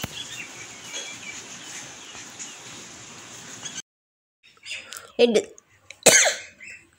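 A person who is unwell coughs twice close by, two short harsh bursts after a quiet pause that follows a stretch of steady background noise.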